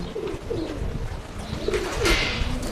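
Pigeon cooing, with soft repeated low coos close by over a mild background hum.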